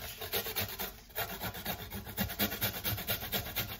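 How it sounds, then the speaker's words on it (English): Fresh ginger rubbed against a grater in quick, rhythmic rasping strokes, close and fairly quiet, for a few seconds with no talking. "First thing I'm going to do, I'm going to grate the ginger."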